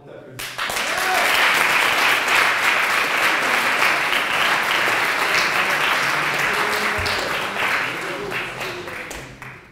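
Loud applause from an audience at a regional debating-contest final, greeting the youngest speaker; steady dense clapping starts abruptly and holds for nearly ten seconds, with voices faintly mixed in.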